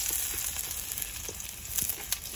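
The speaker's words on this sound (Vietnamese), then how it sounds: "Tỏi phi vàng cái xào rau muống là xong đó" Garlic sizzles steadily in hot oil as it fries golden in a home kitchen, a close, continuous crackle with faint stirring clicks.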